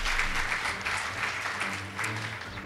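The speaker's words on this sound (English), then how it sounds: "Please give them a round of applause." Audience applause at a school debate competition between Wanjohi mixed and Bahati Upperhill Girls, a steady wash of many hands clapping, moderately distant, with low voices murmuring beneath.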